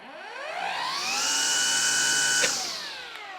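A Makita XGT cordless string trimmer motor spins up with a rising electric whine, holds a steady high pitch, then winds down after a brief clunk, close and alone.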